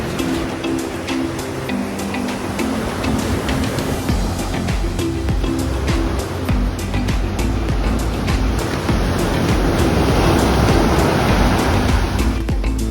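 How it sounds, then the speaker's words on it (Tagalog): Ocean waves washing onto a beach at Liminangcong, Taytay, Palawan, a loud continuous roar of surf that swells slightly toward the end, with a faint steady motor hum underneath. "maririnig mo ang tunog ng mga alon"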